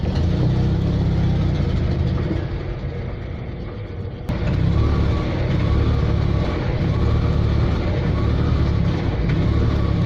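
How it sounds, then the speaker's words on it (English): Invacar three-wheeled invalid carriage engine accelerating on the road, a loud rough mid-pitched engine drone that dips briefly then surges back, running continuously up close. "I'm accelerating on the accelerator pump only"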